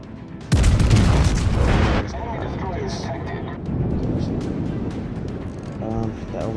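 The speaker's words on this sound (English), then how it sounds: "I'm taking a test shot." A battleship's main guns fire a test salvo in World of Warships: Legends, a loud booming blast near the start that rumbles on for about a second and a half, followed by ongoing battle noise and talk.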